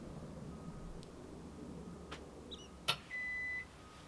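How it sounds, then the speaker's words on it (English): A single short electronic beep from a Vevor 2500W pure sine wave inverter powering on sounds faintly near the end, a steady tone lasting about half a second over quiet background hum. "Hear that little beep? Means the trailer is powered."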